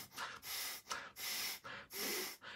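Forceful breaths pushed out through the nose come in three or four long, loud rushes of air, separated by brief pauses, close to the listener and with no talking.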